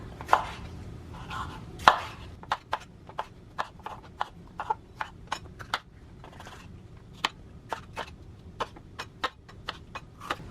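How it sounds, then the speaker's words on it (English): A knife rough-chops vegetables on a cutting board, giving a steady run of sharp, close taps spaced roughly evenly over the whole stretch, with a few heavier thuds near the start and a low background hum. "So I'm just gonna do a rough chop."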